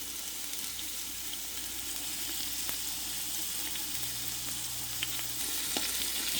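Garlic and onions frying in a pan for collard greens, a steady close sizzle with occasional light clicks and a faint low hum.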